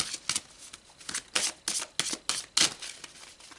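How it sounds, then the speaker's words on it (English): A deck of tarot cards being shuffled by hand: a steady series of about a dozen papery riffling swishes in an uneven rhythm, close and clear with no talking. "So let's pull some more cards."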